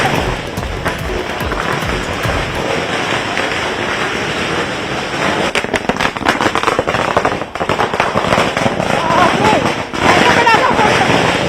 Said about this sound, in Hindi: पटाखे फोड़े जा रहे हैं ढोल नगाड़ों के साथ।